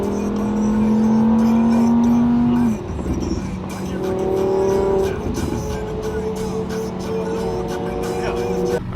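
Cars rev hard and rip past at a car meet, with loud engines rising and falling in pitch through repeated passes and a brief tire squeal, heard from the roadside.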